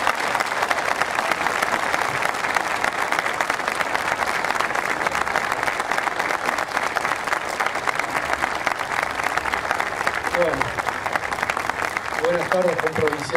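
Studio audience applause during a news segment program, loud and continuous clapping from many people held steady for the whole stretch, with faint voices and a brief tonal sound surfacing near the end.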